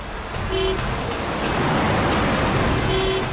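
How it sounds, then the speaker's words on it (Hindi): A car horn gives two short toots a few seconds apart over steady traffic rumble and engine noise. "अरे क्यों हॉर्न मार रहा है?"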